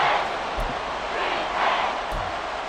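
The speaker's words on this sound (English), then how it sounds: "This crowd turning up the decibel level." Stadium crowd roar in the American football video game Madden NFL 24, a steady loud wash of cheering late in the fourth quarter, sustained throughout with no clear talk on top.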